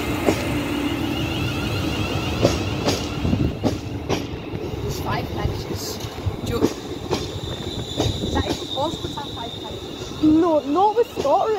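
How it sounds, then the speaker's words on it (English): ScotRail train arriving into Williamwood station, rumbling and clattering close by with squealing wheels and brake tones rising near the end; people talk intermittently over it. "So we have 3, 2, 1, 1, 2 arriving into Williamwood."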